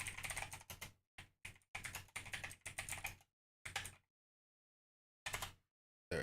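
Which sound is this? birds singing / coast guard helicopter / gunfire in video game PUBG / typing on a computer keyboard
typing on a computer keyboard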